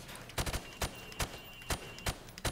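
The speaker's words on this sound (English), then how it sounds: "Now, shoot at the targets while firing from the hip." Gunfire in Modern Warfare Remastered as targets are shot from the hip: sharp, loud single shots and quick pairs spaced irregularly, about seven bursts in a couple of seconds.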